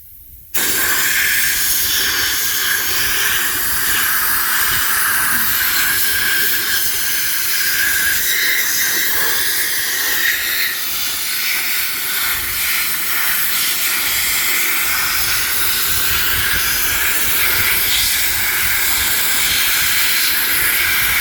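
Soda blasting with baking soda in a backyard on an F100 project part, a steady, loud, unbroken air hiss with a gritty spray that starts abruptly and runs without pause, with no talking over it.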